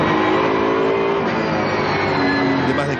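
V8 Superstars touring race cars of over 500 horsepower race in a pack at Vallelunga, a loud layered engine roar with shifting tones as several cars howl past, with faint talk underneath.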